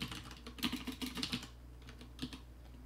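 Typing on a computer keyboard, a quick run of clustered key clicks in the first second and a half, then a brief pause and a couple more taps, close and clear over a low steady hum.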